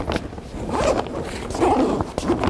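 Clothing zipper being pulled with effort, a close scratchy rasp in several uneven strokes, at a classic car show featuring rare Shelby Cobras.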